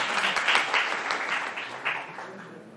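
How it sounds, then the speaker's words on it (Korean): Applause from an audience welcoming a panelist at a solar-dividend policy forum, a steady wash of clapping with faint pulses, moderately quiet and slowly fading over a few seconds. "여러분 뜨거운 박수로 맞이해 주시기 바랍니다."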